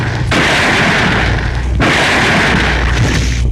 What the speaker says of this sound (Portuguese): Logo, eles trocam tiros.